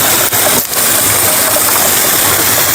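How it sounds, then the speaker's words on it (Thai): Steady broadband rush of a stream flowing near a mountain campsite, loud and continuous, with no talking over it. "ดูได้ยินเสียงน้ำไหมทุกคน"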